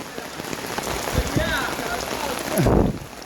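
Heavy rain pours steadily during a flooding downpour, a dense, close hiss that swells slightly toward the end, with brief voices heard faintly beneath it.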